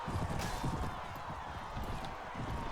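Horses gallop in a Mount & Blade Warband battle, giving a dense, steady clatter of hoofbeats that continues throughout at fairly close range with no pauses.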